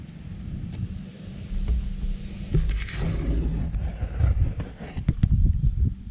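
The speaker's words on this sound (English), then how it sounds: "if it's like windy out like it is here for me" Steady wind buffeting the microphone, a low rumbling roar that swells and gusts throughout, with occasional knocks and rustles.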